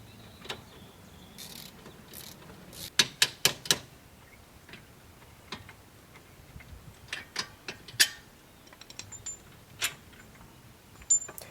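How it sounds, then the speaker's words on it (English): Sharp ratchet or wrench clicks while bolts holding a Nissan control arm are removed, coming in short clustered bursts with pauses between, fairly close and moderately loud in a quiet workshop with no talk. "we can go ahead and take out the bolts that are holding the control arm"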